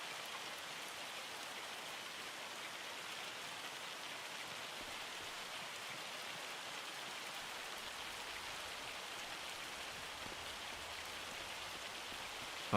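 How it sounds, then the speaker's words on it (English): Hail falling in the Farming Simulator 25 video game, a dense, even patter of pelting ice that holds steady throughout, with no voices. "especially when it's hailing like this"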